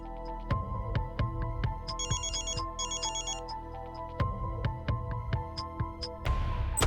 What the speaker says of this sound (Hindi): ये फोन बज रहा है, तनु उठा क्यों नहीं रही है?